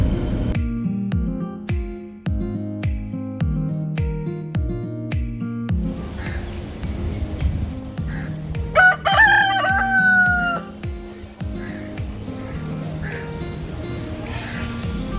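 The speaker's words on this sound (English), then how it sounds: "There's a rooster." A rooster crows loudly and nearby at a cafe in Karachi, Pakistan, a long ringing call rising over a busy background with rhythmic thumping music and scattered clatter.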